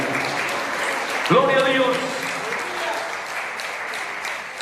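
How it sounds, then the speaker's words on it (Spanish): Church congregation clapping hands in praise during a sermon, a steady wash of applause under a voice speaking briefly, fading slightly toward the end. "¿Le puede dar palmas de alabanza, hermanos, a nuestro Dios?"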